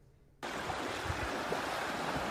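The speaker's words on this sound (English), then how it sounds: "That is the sound of the Tubatse River, with its raging waters surging downstream." The raging Tubatse River surges downstream, a dense, continuous roar of rushing water that cuts in abruptly after a moment of quiet and holds steady and loud throughout.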